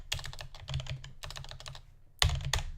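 Rapid typing on a computer keyboard, close and clear, in two quick bursts of clacking keystrokes separated by a short pause, with no voices.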